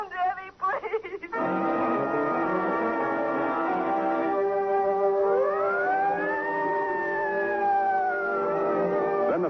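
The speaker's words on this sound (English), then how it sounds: "Then the sirens howl because a man is dead" Police sirens wail steadily after a brief burst of noise, their pitch rising and sliding in long overlapping howls that fill the whole stretch, as a radio drama sound effect.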